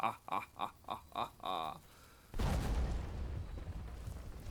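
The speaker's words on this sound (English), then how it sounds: "that was not that big of an explosion." A short series of rhythmic tonal blips gives way to a sudden, deep rumbling explosion in the video game Blue Prince, a moderately loud boom that decays into a lingering low roar.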